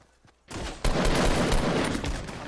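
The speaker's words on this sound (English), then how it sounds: "I'm getting shot from behind" Rapid bursts of gunfire in a Fortnite match, a sudden loud volley that erupts after a quiet start and continues as dense, sustained shooting close by.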